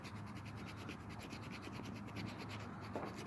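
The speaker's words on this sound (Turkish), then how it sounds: "yapıştıracağımız bölgeyi zımparalıyoruz" Steady abrasive scratching of sandpaper rubbed back and forth over the surface of a punctured football being prepared for a patch, continuous and close, with no talking.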